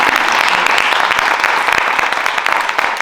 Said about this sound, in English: You can applaud, come on.